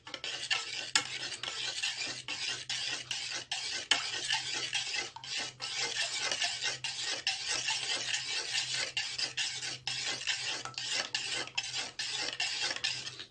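Strawberry ice cream mixture being whisked in a bowl gives fast, rhythmic rasping strokes in repeated bursts with brief pauses, close and continuous, without talk.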